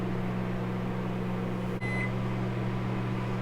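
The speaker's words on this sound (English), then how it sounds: "the oven just signaled that it's preheated" A kitchen oven sounds a single short electronic beep signalling it has finished preheating, heard once near the middle over a steady appliance hum.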